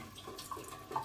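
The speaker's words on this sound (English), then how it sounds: "have the water running in from the top" Tap water pours into a potted ficus from the top, a soft, steady trickle with faint splashy bursts, quiet and close, no voices.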